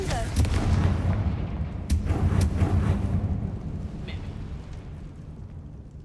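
A Confringo blasting spell goes off in a video game in a spider-infested area: a heavy, close rumbling boom that rolls on and slowly fades over several seconds.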